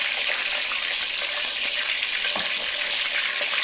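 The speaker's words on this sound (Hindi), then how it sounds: "इसी तरह हम दूसरा बैच डाल देंगे, उनको भी फिर फ्राई करेंगे" Eggplant pieces fry in hot oil as a second batch, giving a steady, dense sizzle and crackle that stays fairly loud and even throughout, with no voices.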